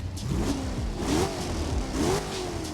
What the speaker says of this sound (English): We spend a lot of time as audio designers trying to make each car sound unique and as realistic as we possibly can.